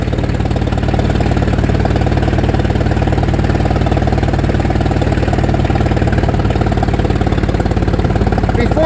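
A 1959 International Harvester B275 tractor engine runs steadily in first gear, a loud, close, rumbling chug with a constant rhythmic knock throughout.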